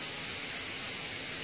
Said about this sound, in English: I'm going to pray that this spray works.